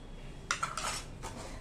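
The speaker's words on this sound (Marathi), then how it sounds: "आता हे मस्तपैकी हलवून घ्यायचं आणि छान एक मस्त उकळी काढायची" Tomato soup in a pot being stirred with a metal spoon, giving a few bright clinks and scrapes against the pot in a short burst, then one more clink, close and fairly quiet.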